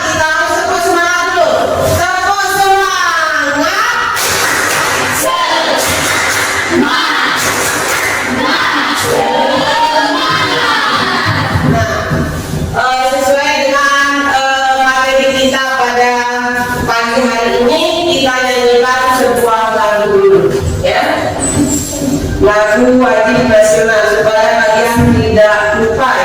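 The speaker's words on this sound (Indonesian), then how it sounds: "kita harus tepuk semangat dulu" A group in a teacher-training class performs a spirited rhythmic chant with clapping, with many voices calling out loudly together in bursts that rise and fall across the whole stretch.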